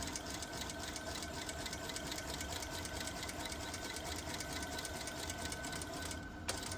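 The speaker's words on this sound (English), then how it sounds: "we're going to do a little bit of a back stitch first, and then we're going to go all the way across" A sewing machine back stitches and then runs along a bucket hat seam, a fast, steady mechanical chatter that continues unbroken and close by at a moderate level.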